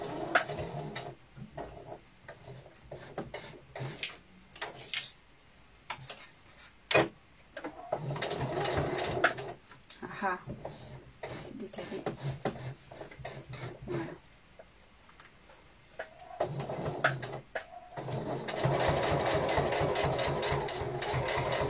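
A sewing machine runs in bursts while stitching a fabric pouch strap, with stops and restarts, short pauses and handling noises between runs, moderately close and faint, with no talk.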